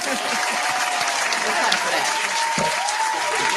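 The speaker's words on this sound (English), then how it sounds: "I'm gonna go ahead and clap for that" Applause from an audience, a dense steady wash of clapping with a faint voice or tone running underneath, fairly loud and continuous throughout.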